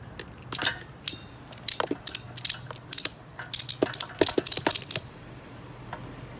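Ratchet tie-down strap cranked tight on a motorcycle hauler, a close series of sharp clicking bursts in uneven groups with short pauses, loud against a quiet background hum.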